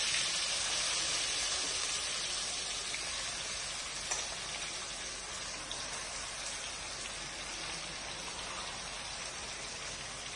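Marinated mutton frying in a pan with cinnamon, cracked cardamom and bay leaves, a steady loud sizzle like rain that holds evenly throughout with no voices.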